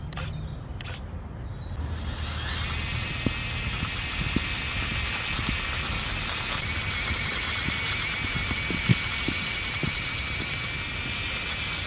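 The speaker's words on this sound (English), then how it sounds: "Now let's try it in second gear." A 1/12 scale RC 1941 Willys Jeep runs in second gear, giving a steady high-pitched electric motor whine and gear hiss that holds at an even level throughout, with a few faint ticks and knocks from the trail.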